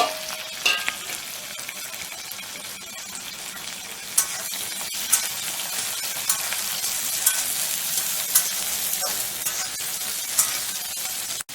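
One large chopped onion fries in a pan for a Bengali mutton kosha, giving a dense steady sizzle with occasional clinks and scrapes of a utensil stirring, close and continuous with no talking.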